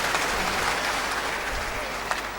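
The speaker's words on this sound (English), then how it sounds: "Give him a round of applause." A congregation at a church service gives a round of applause, dense steady clapping that fills the room from start to finish, loud and close with no speech over it.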